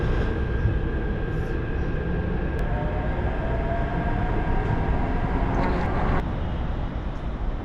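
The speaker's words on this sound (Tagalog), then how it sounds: "Ito, Taoyuan Airport MRT tayo." Taoyuan Airport MRT train running with a loud, steady rumble and whir of wheels and motors, a faint tonal whine riding over the constant noise for the whole stretch.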